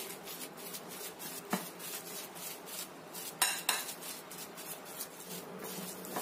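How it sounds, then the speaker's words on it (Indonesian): Spoon stirring a tofu mixture in a bowl, soft repeated scraping with a couple of sharper clinks against the bowl, quiet and close. "Ini kita aduk sampai tercampur rata lagi."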